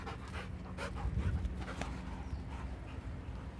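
Two shelter dogs at an animal shelter pant steadily and quickly after running and playing on a cold day. The panting is close and continuous, with a few faint scuffles in the quiet.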